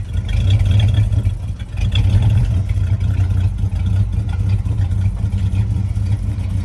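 A 1973 Dodge Charger in satin black idles too low outdoors at a lakeside landing, a deep, loud rumble that lopes and wavers unevenly and runs steadily throughout.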